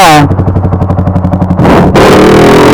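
Yamaha R15 V4 motorcycle engine revving up close: a loud, rapidly pulsing exhaust rasp with regular throttle blips, then a sustained higher rev that drops back, all loud and without talk.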